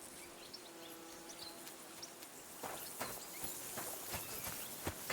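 Horses walking along a rocky path in Kingdom Come Deliverance 2, soft irregular hoof clops growing more frequent and distinct in the second half over a quiet outdoor bed of insects and faint birdsong.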